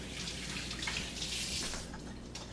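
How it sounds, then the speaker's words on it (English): Hands rinsed under a running kitchen tap, a steady close splash of water with uneven gushes as the hands move through the stream, alone without voices. "Let me rinse my hands."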